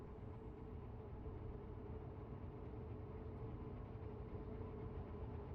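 Heavy freight train in a railway simulation game, a steady low rumble and rolling drone that holds constant and fairly loud throughout, with no voices over it.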